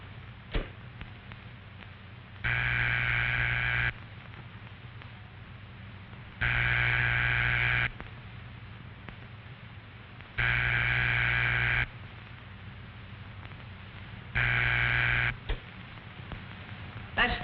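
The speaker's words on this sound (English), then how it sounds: "That's the ringing signal. It tells you that the telephone at the number you called is ringing." A steady ringback tone repeats four times in long evenly spaced bursts, each about a second and a half, over a faint line hiss.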